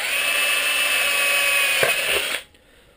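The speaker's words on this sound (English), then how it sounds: "Get it started and then drill through." A power drill whines steadily at high speed while drilling a pilot hole through metal, then cuts off abruptly, leaving near silence.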